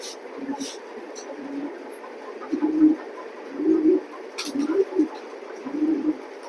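A red checker racing pigeon hen coos in a series of low, rolling calls, close by, over a steady background hum with occasional soft clatter.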